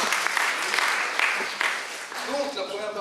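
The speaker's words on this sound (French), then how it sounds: "Et je pense qu'on peut les applaudir déjà d'être venus." An audience applauding the invited speakers at a conference on images, a sustained round of clapping from a seated crowd that fades toward the end as a voice begins to speak over it.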